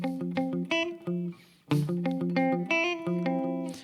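Guitar in FACGCE tuning with a chord picked in a repeating arpeggiated pattern, crisp plucked notes ringing in a steady rhythm, quiet and close, with a brief gap midway.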